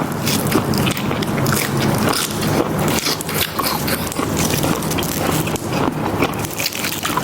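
Close, crunchy biting and chewing of boiled shellfish repeats steadily throughout, dense crackly crunches with no talking.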